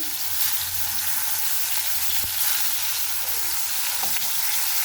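Eggplant slices sizzle steadily in hot oil in a pan, a continuous close frying hiss with occasional pops and light utensil touches, no voices.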